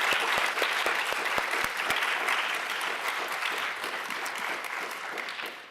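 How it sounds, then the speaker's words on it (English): An audience at an African women's rights event breaks into sustained applause, dense and steady throughout, with a few sharp individual claps standing out near the start. "give them a special round of applause"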